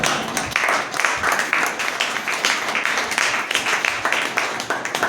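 A church congregation claps together, a dense stream of close, sharp hand claps with an irregular rhythm that holds at an even level all the way through.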